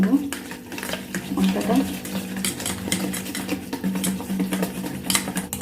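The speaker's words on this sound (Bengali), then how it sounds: "এই দইটা দিয়ে দেবো এখন এটা ভালো করে মিশিয়ে নেব" A spoon scrapes and clinks around a bowl as yogurt is worked into a tandoori chicken spice marinade, in an uneven run of close scraping and tapping, with someone talking over it.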